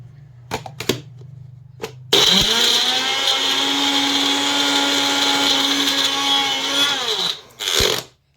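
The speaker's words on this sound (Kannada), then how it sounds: "ನೋಡ್ರಿ ಫ್ರೆಂಡ್ಸ್ ಇದಕ್ಕೆ ಮಿಕ್ಸಿ ಹಾಕೊಂಬಿಡನ್ರಿ" A mixer grinder grinding dry biryani masala in its jar: a few short clicks, then a loud, steady whirring motor for about five seconds that winds down before a final brief pulse.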